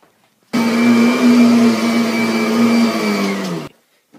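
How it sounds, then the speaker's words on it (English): A vacuum cleaner switches on while cleaning a carpeted room, running as a loud, steady whine for about three seconds before cutting off abruptly, with silence on either side. "Vacuum. Clean your room like this."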